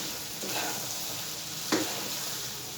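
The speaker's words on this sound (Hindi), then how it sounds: "अब इनको मैं अच्छी तरह मिक्स कर दूंगा।" Eggs and vegetables for khagina (bhujia) fry in a pan with a steady, close sizzle, broken by a couple of brief stirring scrapes.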